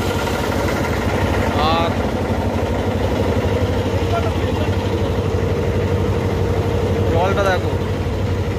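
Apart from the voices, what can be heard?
boat engine running on a river crossing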